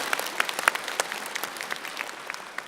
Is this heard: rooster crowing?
no